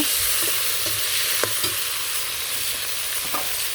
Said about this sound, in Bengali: এদিকে চুলাই দিয়ে দিচ্ছি শোল মাছের মাথা ভাজি করবেন খিচড়ির জন্য